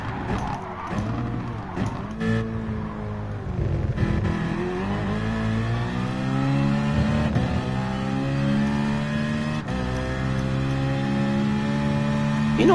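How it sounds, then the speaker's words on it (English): A race car engine in the Gran Turismo Sport video game, said to resemble a Formula 1 car, revs and accelerates steadily through rising and falling gear pitches, loud and continuous with no talk over it. "this thing does sound a bit like a Formula 1 car"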